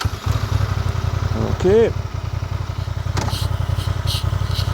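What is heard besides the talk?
750 motorcycle engine running after ignition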